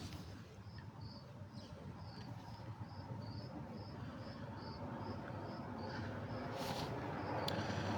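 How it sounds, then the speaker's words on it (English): Crickets chirp in the countryside in a steady, faint pulse of regular trills over a low background rumble, with no other sound standing out. "just hearing the sound of crickets"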